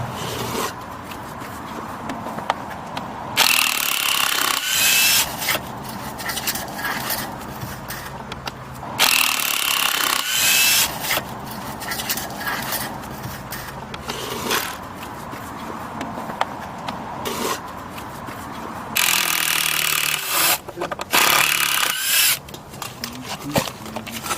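A power tool drives out MudHead screws from concrete forms in repeated short whirring bursts separated by pauses, close and fairly loud, with faint movement noises in between.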